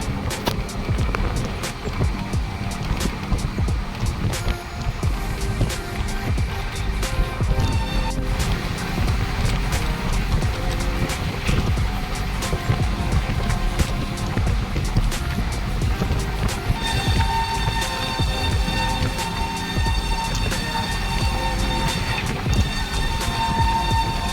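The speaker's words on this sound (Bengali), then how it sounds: "আমি এখন ট্রেনে আছি, যাচ্ছি কলকাতা।" A passenger train heading to Kolkata rumbles and rattles continuously from inside the carriage, a loud, steady roar with clanking wheel noise throughout.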